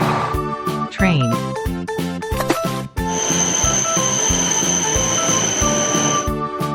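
A toy train runs with a steady rhythmic electronic chugging pattern, loud and close, with sliding tones and chimes at the start, then a continuous high whistle-like tone over the beat.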